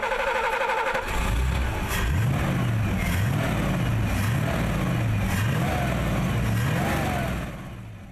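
An Italia sports car with a 5.7-liter Ford V8 drones and rises through revs as it drives, loud and close, with a rhythmic pulsing throb that eases near the end.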